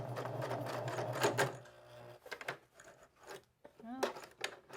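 A sewing machine stitches fabric at a short stitch length, with brief bursts of mechanical stitching between pauses, fairly close, while a person talks over and between the bursts.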